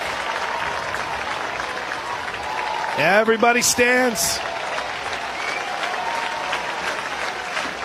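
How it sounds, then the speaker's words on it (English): Softball crowd at an Oklahoma vs BYU game claps in unison throughout, a steady rhythmic patter of many hands under a broadcast announcer's voice, with a brief swell of cheering midway. "They clap in unison once again."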